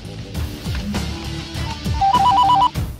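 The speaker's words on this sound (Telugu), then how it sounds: "వానికి ఫోన్ కలిపిరా." A telephone rings as a call is placed in a Telugu comedy scene, a repeated electronic ring tone chirping in short bursts over a busy background of other sounds, growing clearer toward the end.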